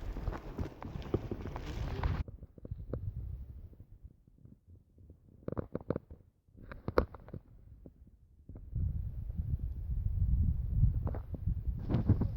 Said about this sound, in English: Donkeys.